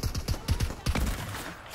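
Rapid shotgun blasts in the Fortnite video game, a burst of about six sharp booming shots in quick succession, loud and close, then fading into a quieter tail.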